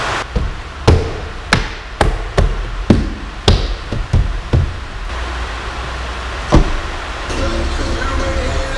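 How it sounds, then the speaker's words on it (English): Door card being pressed and clipped back onto a door of a 2016 Mazda CX-3 during sound-deadening work, giving a run of sharp, close knocks and thumps in quick succession, then a quieter stretch with one more hard thump. "Let's put the door card back on."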